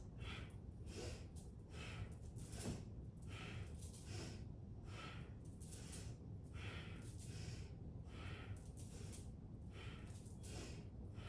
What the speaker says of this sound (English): And then inhale to the right, exhale up. Inhale to the left, exhale up. Short breaths.